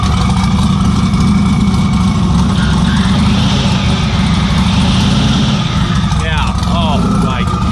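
A car with a badly worn clutch makes a steady loud grinding, rattling drone as the pedal is held in, heard up close beneath the car while someone talks over it.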